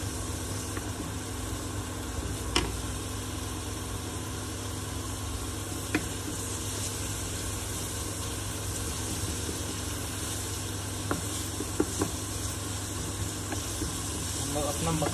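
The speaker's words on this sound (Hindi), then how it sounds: "एक डेढ़ मिनट इसको हम अच्छे से सोते करेंगे या फ्राई कर लें।" Makhani pasta sautéing and frying in a pan at an Indian street-food stall, a steady close sizzle and hiss with occasional stirring clinks under faint background bustle.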